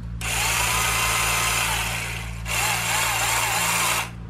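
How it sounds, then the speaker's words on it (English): A 12-volt cordless drill powered by a 3S battery pack whirs loudly at close range in two steady bursts, with a brief dip in speed between them and a low hum underneath. "this is a 12-volt drill because it was run on a battery pack that was 3S"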